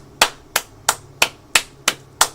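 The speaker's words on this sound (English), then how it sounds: "I applauded him." Seven evenly spaced sharp hand claps, loud and close, each ringing briefly before the next, with no voices.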